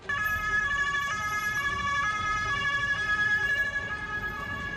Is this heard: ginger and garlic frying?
no